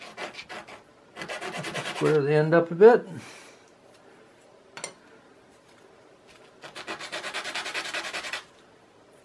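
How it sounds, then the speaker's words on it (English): Hand sanding of a short cut wooden piece during a model boat assembly, heard as two bursts of rasping strokes separated by a pause, with a person speaking briefly in between. "I don't mind sanding that a little bit."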